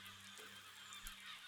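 Geese honking overhead, a few short honks over a steady low background hum, moderately faint and distant.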